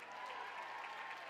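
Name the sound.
audience applause at dance convention awards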